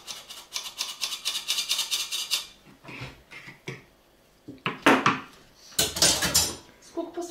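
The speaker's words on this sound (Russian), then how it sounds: "Ты слышишь, ты что ложки выкидываешь туда?" Spoons clattering into a metal cooking pot in a home kitchen, a fast run of bright metallic clinks followed by scattered knocks and scrapes of cutlery, with voices talking in between.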